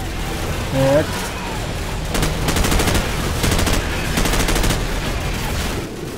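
Bursts of rapid machine gun fire rattle in several quick volleys over a rumbling Call of Duty 4: Modern Warfare game soundscape, loud and close.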